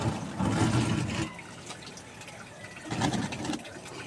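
Water pours and gushes while the water in a catfish tank is changed, coming as two louder splashing bursts separated by a quieter, steady trickle.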